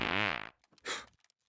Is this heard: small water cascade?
no